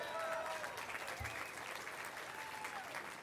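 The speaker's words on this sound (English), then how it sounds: "And that deserves some applause." Audience applause at the Hollywood Walk of Fame ceremony for recording engineer Al Schmitt, a continuous outdoor crowd clapping at moderate distance, fairly quiet and steady throughout.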